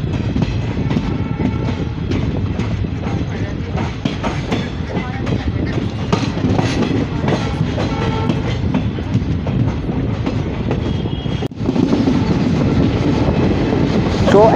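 A passenger train rolls along the rails after pulling out of Alipurduar Junction in the Dooars, giving a steady, close rumble with continuous clickety-clack from the wheels.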